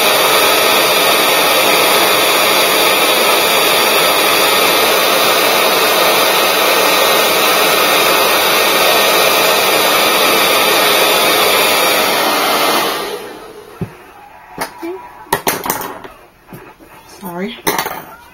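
A hair dryer blows heat onto a glued-in hair weave with a loud, steady, close whoosh for about thirteen seconds, then cuts off, leaving quiet handling clicks and brief talk.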